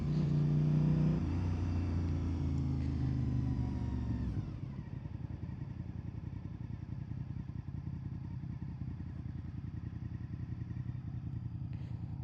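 A Honda VTR 1000 SP2 motorcycle engine slows from a louder, higher run as the bike comes to a stop, then settles into a steady, close, throbbing idle that continues alone.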